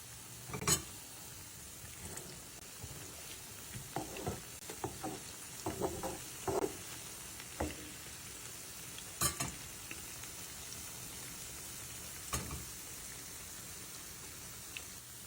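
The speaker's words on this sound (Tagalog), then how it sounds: "Piniritong saging na hinog na hinog." Very ripe bananas frying in a pan crackle with a steady close sizzle, broken by scattered pops and scraping stirs, with no talk.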